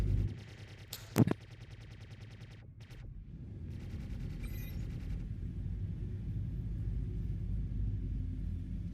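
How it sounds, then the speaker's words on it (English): A ship in the space game Star Citizen fires missiles: a sharp, brief launch crack near the start, then a swelling low rumble and roar that builds and holds steadily with a faint high whistle. "I just love the way this thing fires missiles."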